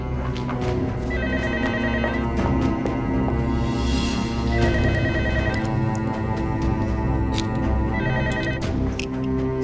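A telephone rings over and over in short electronic bursts, the rings repeating at a steady rhythm above a dense bed of dramatic background music.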